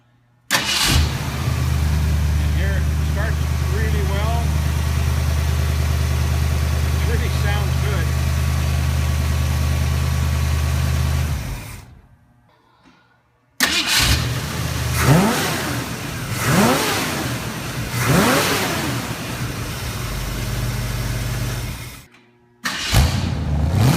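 A Ford 289 V8 engine in a 1965 Mustang idles steadily and loudly, cuts out briefly, then restarts and revs several times in rising surges.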